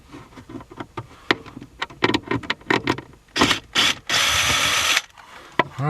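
Screws are worked out of an interior panel on a 2000–2003 Mercedes-Benz S-Class, close ratcheting clicks in irregular bursts, ending with a longer continuous grinding rattle.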